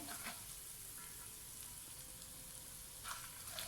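Garlic-ginger paste fries in a pan with a faint, steady hiss and soft crackle, a few brief stirring scrapes near the start and end, no voices.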